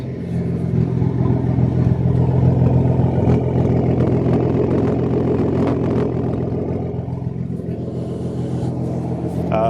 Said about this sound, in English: that exhaust, that should just be purring